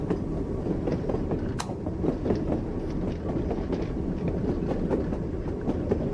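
A train in the VRChat world Organism rolls along with a dense, continuous rumble, steady clickety-clack and creaking, close and loud throughout with no talk.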